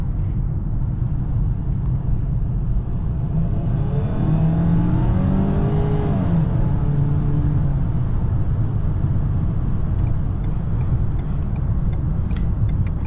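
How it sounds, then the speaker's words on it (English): Inside a 2022 Ford Maverick pickup with a turbo engine during a night drive, a steady loud engine drone swells as the truck accelerates mid-clip, with a rising whine, then settles back to cruising hum. "I could definitely hear the turbo."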